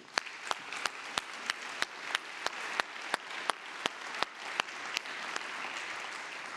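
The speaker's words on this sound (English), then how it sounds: "Please give her a round of applause." Conference attendees applaud an opening keynote speaker: a steady wash of crowd clapping with one sharp, prominent clapper striking a regular beat about three times a second, fading slightly toward the end.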